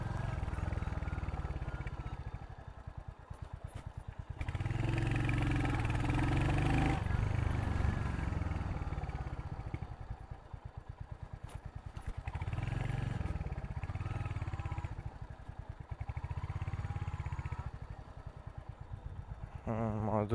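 A Royal Enfield Hunter 350 motorcycle ridden on a village road, its exhaust thumping steadily and rising and falling with throttle changes, loud and close throughout.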